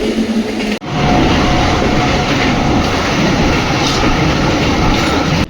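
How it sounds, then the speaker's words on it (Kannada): The SMVT Bengaluru–Bidar special express rolls along with a loud, continuous rumble and clickety-clack of the coaches heard from inside the train. A brief dropout comes near the start, and the sound then stays steady. "SMVT ಬೆಂಗಳೂರು ಬೀದರ್ ಸ್ಪೆಷಲ್ ಎಕ್ಸ್ಪ್ರೆಸ್ಸಲ್ಲಿ ಇವತ್ತು ನಾನು ಟ್ರಾವೆಲ್ ಮಾಡ್ತಾ ಇರೋದು"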